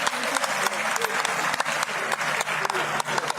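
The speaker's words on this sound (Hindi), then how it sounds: "ऐसे नेता के लिए हम नमन करते हैं, तालियां बजाते हुए।" A large audience claps steadily at a women's conference in Panchkula, a dense, sustained patter of many hands with a few sharper claps standing out and a voice faintly audible underneath.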